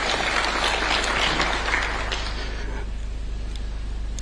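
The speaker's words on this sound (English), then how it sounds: "I humbly request that we give a round of applause to these great men and women of our Republic" Dense applause from a crowd, many hands clapping at once, loud at first and then tapering into softer scattered clapping.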